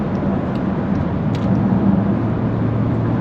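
A 540-horsepower electric Jaguar weighing over 7,000 pounds accelerates on the road. A steady, loud drone of motor and road noise fills the cabin without a break, and no one speaks over it.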